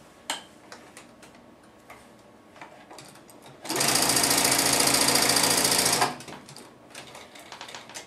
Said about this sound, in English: I'm going to sew from that corner down through